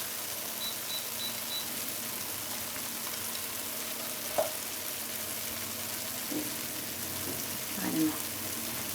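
Gluten-free churro dough in a ring shape frying in hot oil, giving a steady soft bubbling sizzle with occasional light clinks of utensils; a voice speaks intermittently over it.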